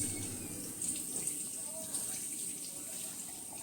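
Water runs from a tap in a steady stream while raw chicken is washed under it, with light splashing and a few soft knocks over the constant flow.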